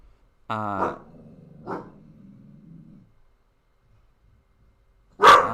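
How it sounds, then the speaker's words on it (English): A dog barks sharply a couple of times with a low growl in between, then lets out one more loud bark after a short silence, close by. "wait, dog, stop. Shush."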